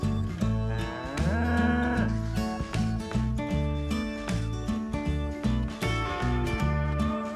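Cattle in a pasture mooing loudly and repeatedly nearby, long drawn-out lowing calls overlapping one another with no talking.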